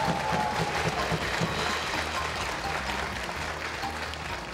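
Studio audience applauding winners of a jubilee Russian Lotto televised draw, a steady dense wash of clapping with a low musical bed underneath, held at even loudness throughout.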